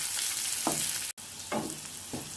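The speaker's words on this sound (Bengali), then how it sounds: "এবার সামান্য ভাজা ভাজা করে নেব।" Chopped onion and garlic fry in hot oil in a pan during home cooking of leafy greens, a steady soft sizzle broken by a few short scraping stirs.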